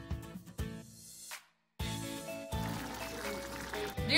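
Liquid poured into a cooking mixture, heard as a close, steady splashing pour that runs for a few seconds after a brief pause, with light kitchen clatter.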